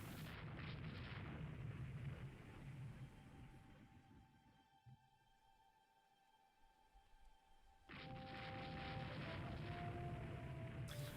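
Naval battle explosions and shell impacts from a video game: dense, loud booming blasts that ease into a low rumbling lull, then erupt again with heavy crashing hits.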